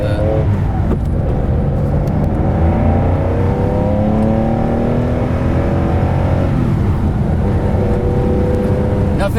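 A loud Shelby Cobra replica car engine revs and rumbles continuously, close by, its pitch rising and falling with the throttle.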